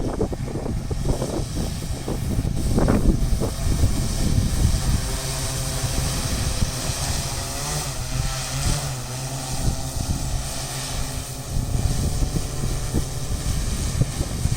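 An agricultural drone flying low over a field spraying pesticide, its rotors giving a steady loud buzzing drone with wind rumble, continuous and close throughout.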